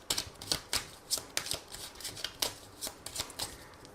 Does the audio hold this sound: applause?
no